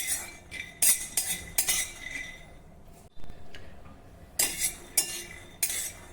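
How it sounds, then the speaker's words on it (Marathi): A spatula stirs peanuts dry-roasting in a metal kadhai over low heat, giving a string of sharp clinks and scrapes in uneven bursts, with a short quiet gap in the middle. "मंद आचेवर छान खमंग असे शेंगदाणे आपण भाजून घेऊ"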